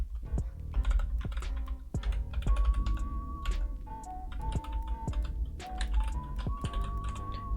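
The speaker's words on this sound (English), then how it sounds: "Keyboard ASMR." Fingers type on a computer keyboard in quick, uneven runs of crisp close clicks and taps, while a faint tonal melody plays softly in the background.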